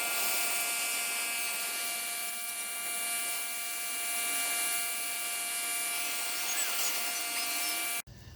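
A power washer runs on a concrete driveway with a continuous high whining drone and a steady hiss of spray, unbroken and close, cutting out abruptly near the end.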